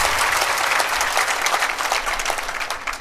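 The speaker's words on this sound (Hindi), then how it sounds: "थोड़ा दमदार ताली बजाना चाहिए," A live audience at a spiritual discourse bursts into loud, dense applause, continuous close clapping from many hands throughout.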